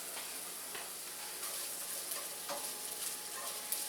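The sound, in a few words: scrambled eggs being stirred and frying in a pan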